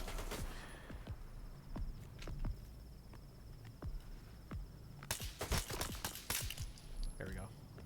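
Rifle gunfire in a video game crackles as sharp, separate shots, scattered at first and then a tight rapid burst in the last few seconds, set against quiet background sound.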